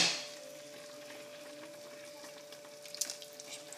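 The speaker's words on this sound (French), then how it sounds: "Je vais mettre un peu de bouillon de viande" Meat broth trickles over prunes in a small dish while a lamb tajine with prunes is being prepared, a soft steady pour close by with faint splashes near the end.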